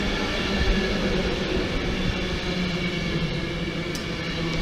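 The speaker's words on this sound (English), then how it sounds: "Nah, this one's just a Pendolino. London Euston via Birmingham New Street" A Class 390 Pendolino electric passenger train, unit 390-013 bound for London Euston via Birmingham New Street, runs through Wigan station with a steady, loud rumble and hiss held throughout, no pauses or voices.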